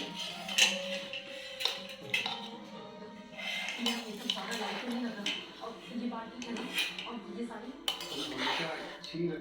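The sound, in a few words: mixing chicken biryani in a pot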